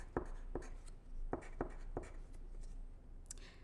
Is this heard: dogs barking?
no